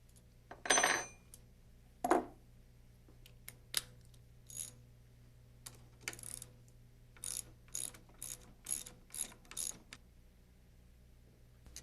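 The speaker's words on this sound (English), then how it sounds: "Using the 9/16" socket wrench and open end wrench," A 9/16-inch socket wrench ratchets while a locking nut is taken off a teeter block bolt on a RotorWay helicopter, giving a series of faint, close metallic clicks and short ratcheting bursts spaced irregularly across the clip.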